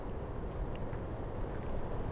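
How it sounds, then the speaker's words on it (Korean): Strong countryside wind blowing in continuous, rumbling gusts that buffet close to the microphone, steady and fairly loud with no talking. "바람이 이렇게 세차게 불어요."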